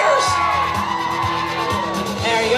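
Wedding guests cheering and whooping together as a crowd, a steady loud mass of yells and shouts for about two seconds.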